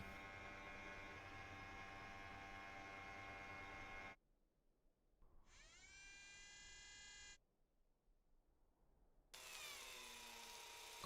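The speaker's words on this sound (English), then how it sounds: "There goes the drill bit." A Mars rover's drill whirs steadily, cuts out, then spins up again with a rising whine; a later burst sounds higher and harsher, with no talking.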